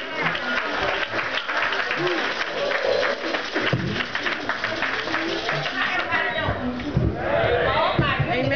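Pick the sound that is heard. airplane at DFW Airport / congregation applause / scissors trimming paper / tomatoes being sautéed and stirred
congregation applause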